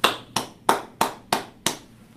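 A single person clapping hands six times in a steady, even rhythm of about three claps a second: sharp, close and crisp, with near silence between each clap.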